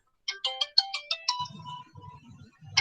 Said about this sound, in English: Sorry, I pick up a phone a little bit.